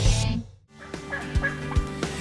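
A wild turkey gobbles during a fall turkey hunt, a few rattling calls standing out clearly against a quiet outdoor background.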